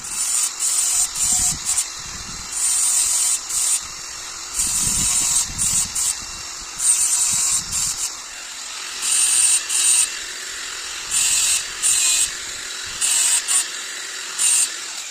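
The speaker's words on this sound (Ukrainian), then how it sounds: "Зараз болгаркою чуть поправляю ножики легенько, щоб краще косило." A cordless angle grinder sharpens metal mower blades in repeated short bursts, a high whining grind that starts and stops every second or so.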